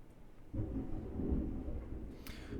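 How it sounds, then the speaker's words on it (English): Thunder from a thunderstorm rolls in as a low, sustained rumble, moderately distant and fairly faint, lasting a couple of seconds with a soft crackle near the end. "Bit of a thunderstorm here, everybody."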